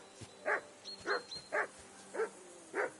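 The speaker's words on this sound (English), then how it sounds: "Can you get your dog to shut its beak?" A dog in Kingdom Come: Deliverance 2 barks five times at an even pace. The barks are short and fairly faint, with quiet ambience between them.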